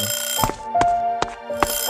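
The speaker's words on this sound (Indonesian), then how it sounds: "Apa nih, kok ada suara alarm dah? Oh ini alarm nih, matiin dulu nggak sih alarm? Berisik banget dah." An alarm clock rings in the video game A Space For The Unbound, a repeating electronic beeping pattern with sharp clicks between tones, close and fairly loud with no speech.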